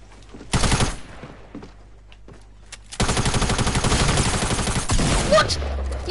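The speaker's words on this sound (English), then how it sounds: "He had the heavy shotgun." Heavy shotgun fire in Fortnite: a loud blast, a pause, then a long dense burst of rapid shots from close by, with a voice heard faintly underneath.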